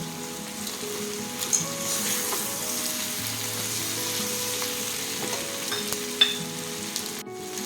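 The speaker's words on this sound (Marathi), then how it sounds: "हे छान परतून घेऊया. यामध्ये आता मी जे शेंगदाणे टाकते." Raw tomato chutney ingredients and peanuts sizzle steadily in a hot pan as they are sautéed and stirred, a continuous close frying hiss with a few small clinks, no talking.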